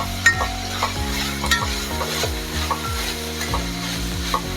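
Onions for Kerala-style beef curry fry in a pan while a spoon stirs them, a loud, close sizzle broken by regular scraping strokes about once a second, with no talking.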